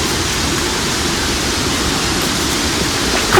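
Marmala waterfall roaring, a dense, unbroken broadband rush of falling water, loud and steady throughout with no voices.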